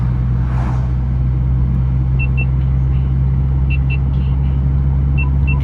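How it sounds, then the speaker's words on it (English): A stage 2+ BMW 340i engine starts and runs with a steady, deep rumble throughout, close by, with a few faint high beeps chirping in the background. "It gives a race car feel when you start up the car."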